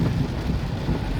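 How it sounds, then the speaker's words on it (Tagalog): Heavy rain pouring down in a steady, dense roar with low wind rumble, continuous and loud throughout a short stretch, with no voices. "Ayan, sige, ulan!"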